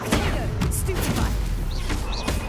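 Stupefy spell cast in the video game Hogwarts Legacy: a sharp magical burst with a crackling impact, set amid dense, continuous combat effects and clatter.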